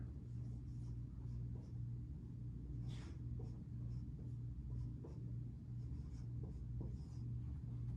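A student writes an equation in a classroom, making faint, intermittent pen or pencil scratching over a steady low room rumble and hum.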